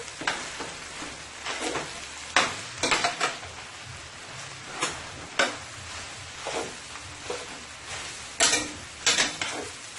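Guyanese-style egg and rice with black pepper frying and sizzling in a pan, tossed with repeated bursts of scraping and clattering over a steady hiss, close and fairly loud, with no talking.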